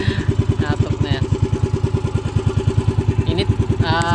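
A motorcycle engine idles close by with a steady, fast chugging pulse that runs the whole time, while faint higher whines and rattles come and go above it.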